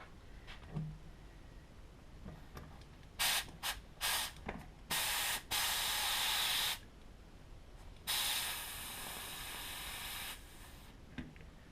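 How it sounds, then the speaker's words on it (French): Air compressor inflating a bicycle inner tube: several short hissing bursts of air, then two longer loud continuous blasts, close to the microphone with no talking. "on remet un petit coup de compresseur"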